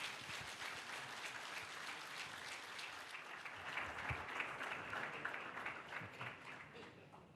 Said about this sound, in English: please give His Excellency the biggest round of applause